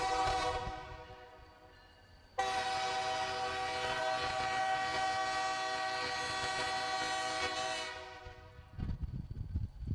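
Missouri & Northern Arkansas Railroad freight train hauling hopper cars on the old Katy line, a loud sustained multi-tone horn blast near at hand, cut off then resumed, fading out as wheel rumble takes over at the end.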